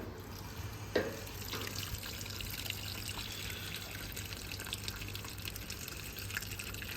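Hoover 1400 washing machine filling with low-pressure hot water, a steady faint trickle and hiss running throughout with a low hum, one brief knock near the start.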